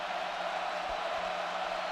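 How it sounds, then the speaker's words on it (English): Steady roar of a large basketball arena crowd at a men's college game between Michigan and Purdue, a dense continuous wash of noise swelling evenly with no distinct voices standing out. "Crowd getting loud, just an 11-point game."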